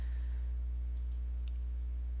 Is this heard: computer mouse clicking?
yes